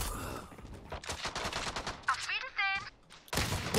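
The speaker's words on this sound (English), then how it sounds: "The bot's shooting at something again." Rapid gunfire from a bot in the video game Valorant rattles off in quick bursts, mixed with game effects and brief talking.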